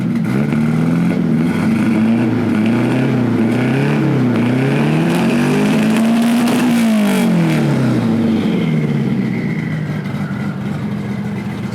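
A turbocharged Toyota Corolla engine revs loudly and steadily, pitch rising and falling in long swells, with a gruff, turbo-like roar throughout and no talking.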